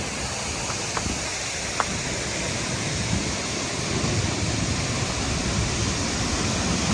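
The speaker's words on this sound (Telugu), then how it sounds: "చూడండి వాటర్ ఫాల్స్ అండ్ సౌండ్." Harvalem waterfall in North Goa roars as a steady, close wash of falling water, continuous and loud with a few faint clicks and no talk.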